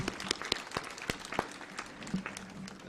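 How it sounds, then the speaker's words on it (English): Applause for graduating students at a Technical University of Kenya graduation ceremony, with scattered individual claps rising above a faint, steady crowd wash, distant and fairly quiet. "We can applaud the students once again."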